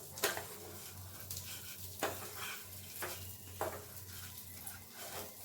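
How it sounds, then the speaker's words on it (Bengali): Vermicelli fried and stirred in a pan with cardamom, a soft steady sizzle broken by scraping spoon strokes against the pan at roughly one-second intervals, close and quiet with no talk. "সিমুইটা দিয়ে একটু ভালো করে নাড়তে হবে, একটু ভালো করে ভাজতে হবে সিমুইটা"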